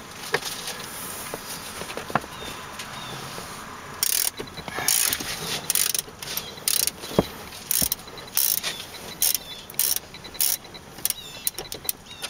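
A ratchet loosens a battery hold-down bolt on a 2005 VW Touareg, first with a few quiet handling clicks, then from about four seconds a loud close burst of rapid ratcheting clicks in repeated short strokes with brief pauses.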